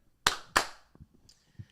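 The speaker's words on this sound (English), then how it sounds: "So Jay Johnson deserves 2 claps" Two sharp, close hand claps in quick succession, then faint quiet noises.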